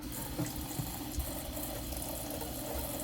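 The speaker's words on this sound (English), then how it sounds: "I'm just going to start by washing them and rinsing them off real good" Potatoes being washed and rinsed under a running tap for a vegetarian breakfast bowl, a steady close rush of water with small splashes and knocks as the potatoes are handled.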